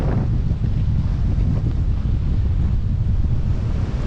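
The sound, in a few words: wind blowing at the coast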